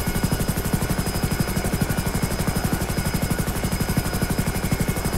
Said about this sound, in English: this is a really large aircraft, really large helicopter here